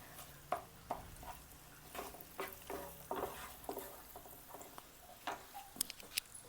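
Onion sautéed until brown for pav bhaji, faint oil sizzle with a series of light spatula taps and scrapes against the pan, quiet and close.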